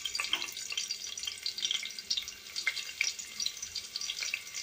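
Cumin seeds and ginger pieces frying in hot oil for egg pulusu, a busy, continuous crackling sizzle with tiny spitting pops, close and steady, no voices.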